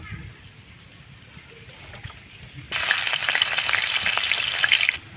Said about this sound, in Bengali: পেঁয়াজটা আমার আধা ভাজা হয়ে গেছে